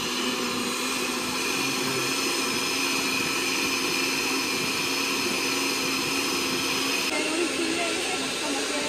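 A blender grinds chili sauce (chirmol picante) for Guatemalan chicken pepián, giving a steady, loud, continuous whirring hiss that barely changes and shifts slightly near the end.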